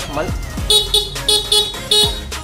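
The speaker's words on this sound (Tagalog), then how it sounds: "stock, bighorn, loud horn" A loud stock horn on a Honda Click 125 V3 motorcycle honks in several short blasts, separated by brief pauses, with engine noise and a few voice sounds in between.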